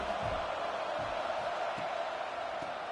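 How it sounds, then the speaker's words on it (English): Stadium crowd noise in the football video game College Football 26, a steady loud roar of a packed crowd filling the whole stretch with no break. "listen to this crowd noise. This stadium is vibrating."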